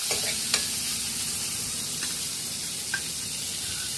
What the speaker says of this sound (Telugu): సాల్ట్ వాటర్లో ఉడికించుకున్న బాయిల్డ్ చికెన్ ఇందులో వేసుకుని బాగా ఫ్రై చేసుకోవాలండి